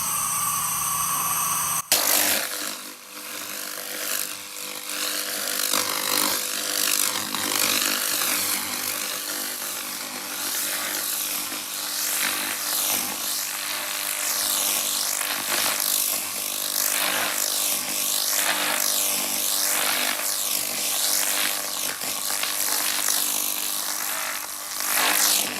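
SLC-2030 laser cleaning machine stripping rust and old paint from a metal surface, giving a steady, loud buzzing hiss with shifting sweeping tones that runs continuously after a sharp start.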